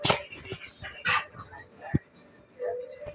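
A small dog making a few short close yips and barks mixed with whimpers, with people talking over it indoors.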